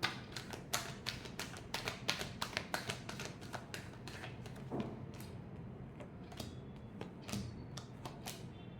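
A deck of cards is shuffled up close, giving a rapid run of sharp papery taps and riffles that slows into scattered flicks, fairly quiet with no talking.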